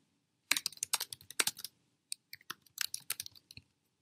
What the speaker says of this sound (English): Type @ and begin typing their name.